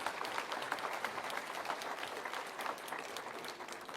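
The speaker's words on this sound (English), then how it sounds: "a big round of applause to the entire organizing committee" Audience applause at the inauguration of the Startup Mahakumbh, a dense continuous clapping from a large crowd heard at moderate distance without interruption.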